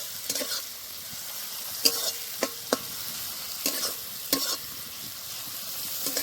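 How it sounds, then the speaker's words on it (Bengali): Onion, tomato, chopped green chili and Kashmiri red chili powder fry together in a pan for a Bengali katla fish curry, a soft continuous sizzle broken by several sharp scraping stirs of a spatula, close and without speech. "সব একসাথে ভেজে নেব।"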